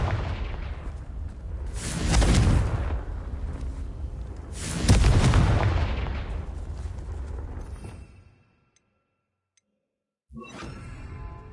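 Two heavy blasts from the Confringo spell in Hogwarts Legacy boom out a few seconds apart, each a loud burst with a long rumbling decay, followed by a silence and a sharp fresh sound at the end.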